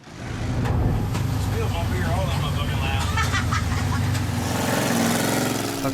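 During a redneck car race, a car engine rumbles loudly and builds as it accelerates, with a narrator talking over it throughout.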